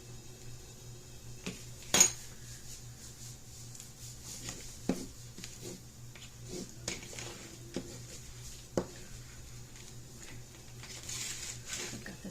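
A knife scrapes and clinks against a plate while avocado is spread on toast, with soft scraping strokes and a few sharp taps standing out in a quiet kitchen.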